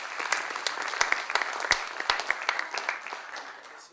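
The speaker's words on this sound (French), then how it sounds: "Donc on l'applaudit et on l'écoute." Applause from a lecture audience at a cultural institute in Casablanca, a steady patter of many hands with sharper individual claps, tapering slightly toward the end.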